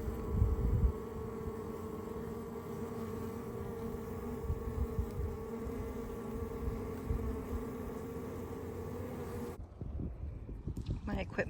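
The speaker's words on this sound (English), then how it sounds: "I've got a bee banging off my veil right here." Africanized bees swarm a water meter box hive, a dense, steady close-up buzzing that drones for several seconds, with individual bees whining past, then cuts briefly before resuming near the end, with someone talking over it.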